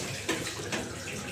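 Water poured over a body during the ritual washing of a deceased man, a steady wash of splashing with two brief louder splashes, fairly quiet and with no talk.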